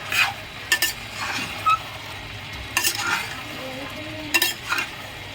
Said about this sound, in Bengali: এই আলুগুলো দিয়ে বন্ধুরা আর পাঁচ মিনিট মতন আমি কষিয়ে নেব